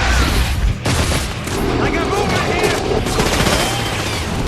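SMG bursts rattle in The Darkness, loud and close, a dense firefight of rapid shots and impacts with a voice talking over it.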